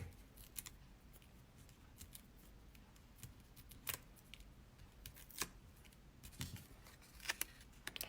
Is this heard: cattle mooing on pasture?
no